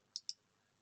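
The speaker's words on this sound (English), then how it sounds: "and double click it." Two quick, crisp computer mouse clicks in a double-click, close and clear against near silence, no voices.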